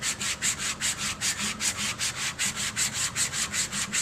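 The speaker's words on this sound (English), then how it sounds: "And it's going to sand." Sandpaper rubbing back and forth over the ends of wooden half rings, a loud close rhythmic rasping with about twenty even strokes and nothing else audible.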